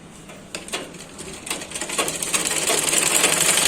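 Sewing machine stitching a dhoti salwar, a rapid mechanical chatter with light ticking that grows steadily louder and denser over a few seconds, no talking.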